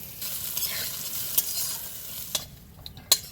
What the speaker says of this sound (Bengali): সবুজ ফুলকপি, আলু, গ্রিন মটরটা সুন্দর করে ভাজা হয়ে গেছে, এবার তুলে নিব।